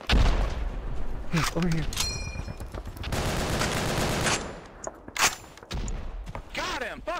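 Dense battlefield gunfire from the WWII shooter Resistance & Liberation during a realism event: volleys of rifle and machine-gun shots, explosions and booms, with shouting players talking over the din.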